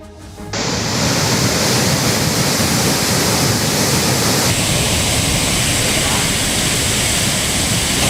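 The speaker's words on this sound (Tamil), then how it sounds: "தென்காசி மாவட்டத்தில் தென்மேற்கு பருவமழை தீவிரம் காரணமாக குற்றால அருவிகளில் கடுமையான காற்றாற்று வெள்ளம்" The Courtallam waterfalls in Tenkasi district, in flood from heavy monsoon rain, give a loud, unbroken roar of rushing water that fills the whole stretch, with no voices.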